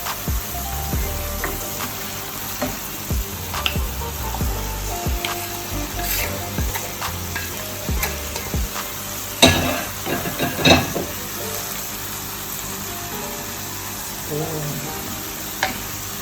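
Crackling sizzle of food frying in a pan, with occasional scraping and stirring clatters over a steady hiss.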